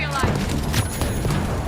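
Gunfire from the video game The Finals, dense bursts of shots and booms mixed with a voice talking over it throughout.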